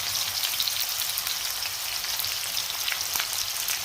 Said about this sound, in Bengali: তেলটা গরম হয়ে আসছে, এর মধ্যে দিয়ে দিচ্ছি পেঁয়াজ কুচি